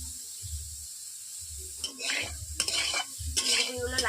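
Cauliflower pieces fry lightly in a kadai, with soft bursts of sizzle and rhythmic spatula scrapes and clinks against the pan, fairly quiet and close, coming in uneven pulses.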